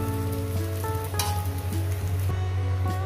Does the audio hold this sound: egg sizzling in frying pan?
yes